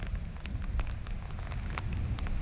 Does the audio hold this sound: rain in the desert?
yes